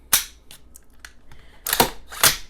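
Sharp gunshots from an AR-15 rifle fitted with a binary trigger, firing on both pull and release: a loud close crack, fainter clicks, then two more loud reports in quick succession.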